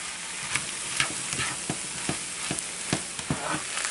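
Chicken and vegetable fried rice cooks in a pan, with a steady, close sizzle broken by a series of sharp scraping and clacking strokes as the spatula stirs and tosses it. No one speaks.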